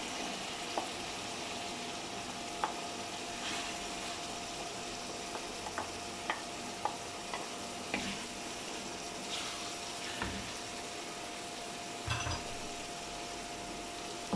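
Taro root (arbi) frying in ghee and masala in a pan, a soft continuous sizzle with occasional light clicks of stirring, fairly quiet and close.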